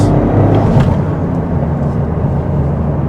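A 2024 Toyota GR Corolla hatchback accelerates hard with short gear shifts, a loud, close engine roar and low drivetrain rumble running steadily, with brief breaks in tone at the shifts.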